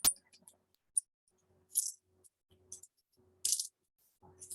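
Coins shaken in a hand, with scattered bright metallic clinks and a few short rattling bursts, close and fairly faint with quiet gaps between.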